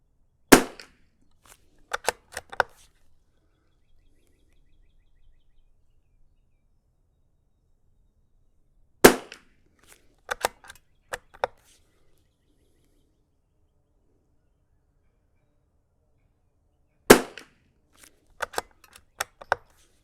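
Three separate rifle shots at a Norma shooting match, each a sharp loud crack followed by a few fainter distant shots from other shooters, spaced about eight seconds apart with quiet between them.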